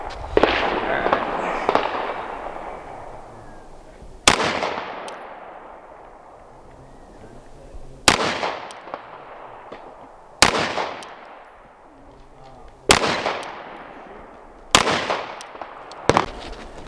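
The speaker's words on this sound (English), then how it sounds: "now I'm gonna take and shoot the Rock Island Armory" Rock Island Armory 2011 pistol fired at a range, six sharp, loud reports spaced a few seconds apart, each trailing off in a long decaying echo.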